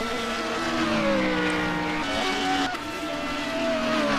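A Formula Renault 3.5 race car passes at the Red Bull Ring, its high engine whine sweeping through gear changes as it goes by, loud and steady with no voices over it.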